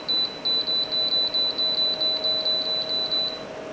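A Seville Classics Ultra Slimline tower fan's control panel beeps in a fast, steady series of short, bright tones while its timer is set, over the fan's constant airflow hum.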